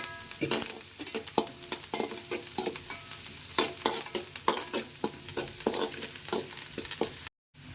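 Chopped onions and curry leaves fry in a pan with a continuous crackling sizzle, broken by repeated scraping and clinking strokes of a spoon stirring, close and moderately loud.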